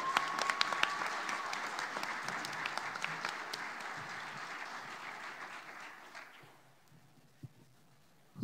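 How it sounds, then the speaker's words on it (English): Audience applause at a PAX East 2018 Final Fantasy XV panel, a loud, dense crowd clapping that holds steady, then tapers off and dies away near the end, leaving a few faint scattered claps. "One more round of applause for our director, Takefumi."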